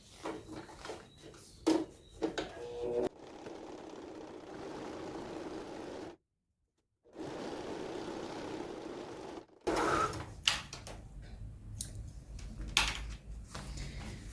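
A domestic sewing machine stitches around a toiletry bag, giving close mechanical whirring runs separated by brief pauses and a short silence, with small clicks and handling noises between.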